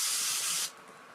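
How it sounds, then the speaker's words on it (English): A white noise panning effect in an electronic music track, a bright steady hiss that holds for over half a second and then cuts off sharply, leaving only a low residual tone. "and simple white noise pan sound"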